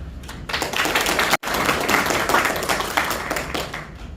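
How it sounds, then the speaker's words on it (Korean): An audience at a labour conference forum claps steadily in sustained applause, a dense patter of many hands close by, briefly cut off before continuing. "여러분들의 박수와 함께 시작하도록 하겠습니다."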